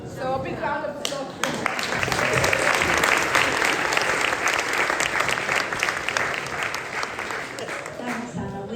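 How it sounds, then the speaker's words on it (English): Big round of applause from a Christmas concert audience, a brief voice at the start, then dense, loud, sustained clapping that tapers slightly toward the end. "So a big round of applause."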